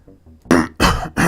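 A man coughs three times in quick succession, loud and close, each harsh burst following a short quiet wheezy breath.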